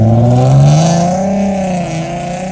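The VQ engine of a Nissan 350Z with power pipes installed revs loud and close, its pitch climbing and then easing off slowly.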